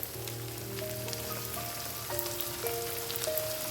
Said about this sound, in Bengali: এবার যোগ করব 1 বাটি কুচিয়ে রাখা পেঁয়াজ।